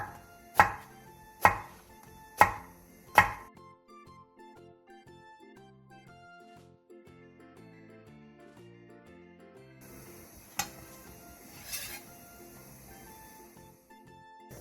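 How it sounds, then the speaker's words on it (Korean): A knife cuts eggplants lengthwise on a board for a Korean side dish: four sharp, evenly spaced chops up close, then soft background music and a few faint later hits. "가지 3개를 길게 반으로 가른 뒤 길게 어슷썰기 해주세요."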